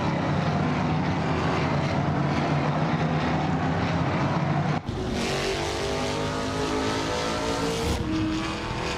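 Ford Mustang and Chevrolet Camaro race cars scream around a circuit at full power, with a sustained loud engine roar and a sudden shift partway through as another car passes close.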